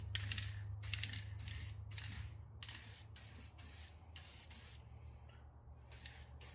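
Spray can hissing in repeated short bursts as aftermarket wheels for a 2020 Subaru WRX get a light coat of paint at night, the pulses close and fairly soft with brief pauses between them.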